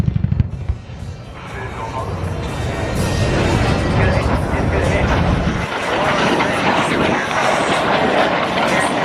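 A Huey helicopter crossing the field at the Tinker Air Force Base air show makes a loud, broad roaring rumble with deep thudding at first, overlaid by an announcer's amplified voice.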